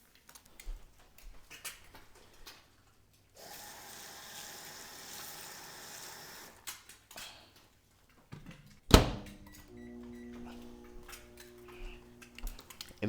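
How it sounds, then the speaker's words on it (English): Microwave oven runs with a steady hum in the middle, between scattered ticks and clicks, followed by a sharp door-like clunk and tonal beeps near the end. "In the microwave for about a minute and a half."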